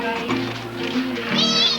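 A cat meows a few times close by, drawn-out whining calls over faint background noise, on an old 1998 VHS home recording at a first birthday party.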